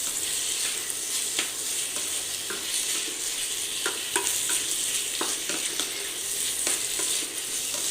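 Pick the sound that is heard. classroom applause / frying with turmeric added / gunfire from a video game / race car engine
frying with turmeric added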